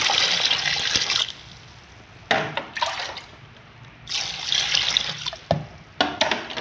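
Balo (needlefish) being rinsed under a running kitchen tap, with bursts of splashing water that start and stop several times, close and moderately loud, no voices.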